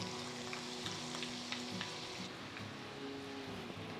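Chopped onion fries in oil with cardamom, cinnamon and cumin, giving a soft, continuous sizzle with faint crackles and occasional light stirring, fairly quiet and steady.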